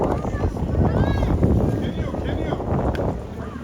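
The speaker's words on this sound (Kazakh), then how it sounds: "Жел болып кетті, дауысым естілетін шығар." Wind gusts buffet a microphone outdoors on Halloween in America, a loud, continuous low rumble that sweeps across the whole stretch while voices and other sounds of the street are faintly heard beneath it.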